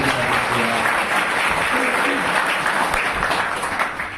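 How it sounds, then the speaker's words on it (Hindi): Loud, sustained applause from an audience gathered for a devotional music-and-discourse program at Narmadapuram Central Jail in Madhya Pradesh, a thick continuous clapping that holds steady before tapering slightly at the close. "एक बार उनके लिए भी जोरदार ताली"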